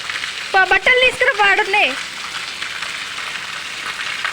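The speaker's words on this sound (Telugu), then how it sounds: "ఫుల్ వర్షం పడుతుంది మాకు" Heavy rain falling steadily outdoors at a house, a continuous wide hiss, with a voice calling out briefly near the start.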